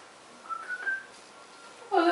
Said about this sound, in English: Oh, look, I can whistle a little.